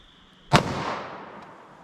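A 9mm pistol shot fired into a denim and MDF rib target, heard as one loud, sharp crack with a short decaying tail, alone and without talk.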